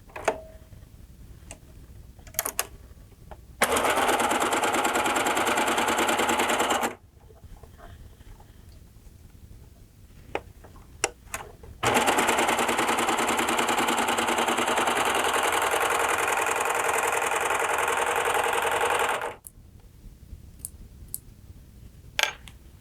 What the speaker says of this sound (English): So let's see how beautiful these stitches are.